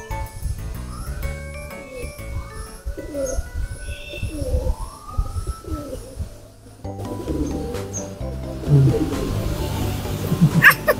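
Pigeons cooing at the Bukittinggi zoo, Indonesia, a series of soft rolling coos repeating through the first half, then a busier stretch of outdoor noise with scattered chirps and faint voices.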